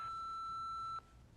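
A single steady electronic answering-machine beep sounds for about a second, clear and close, then cuts off into quiet room tone.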